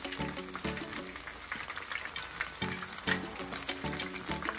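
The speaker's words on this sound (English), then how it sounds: "I'm frying my fritters on medium-high heat right now." Continuous crackling sizzle of callaloo and saltfish fritters frying in hot oil on medium-high heat, close up, with occasional soft clinks and bubbling bursts.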